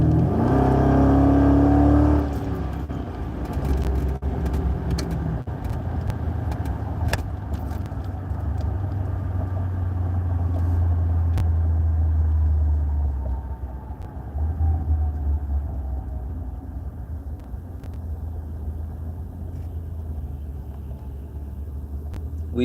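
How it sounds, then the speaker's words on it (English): A 2001 Dodge Ram pickup driving with 2.5-inch exhaust pipes and an X pipe, a deep droning rumble that swells early, then settles into a steady cruising burble with road noise. "exhaust, it sounds fabulous."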